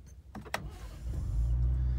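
A 2019 Ford Raptor's engine is push-started: a brief starter whir and a couple of clicks, then the engine catches and settles into a loud, steady low idle rumble close by.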